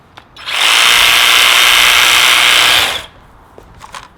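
An Ego HTX 7500 commercial battery hedge trimmer runs up and holds a loud, steady high-pitched buzzing whir for about two and a half seconds, then winds down, with faint handling noise after.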